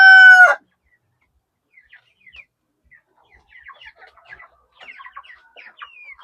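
A rooster crows loudly once right at the start, then broiler chickens, 29 days old, give faint, scattered clucks and chirps in a quiet coop.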